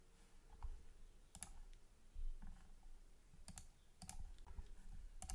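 Mouse clicks on a computer during software setup, a handful of faint, sharp single clicks spaced irregularly over a low, quiet room hum, with no talking.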